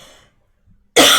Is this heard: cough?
yes